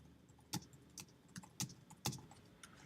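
A handful of separate, quiet keystrokes on a computer keyboard as a caption is typed into InDesign, irregularly spaced taps over a faint room hush, with no talking.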